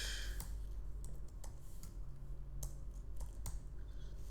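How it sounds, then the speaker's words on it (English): Typing on a computer keyboard while coding a Flutter app, a run of light, irregular key clicks close by over a steady low hum, with no talking. "let me just type page"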